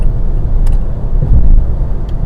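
Inside a moving car with a 1.2-litre engine, changing lanes: a steady low road rumble and engine drone, with faint tire and suspension thumps as it drives along.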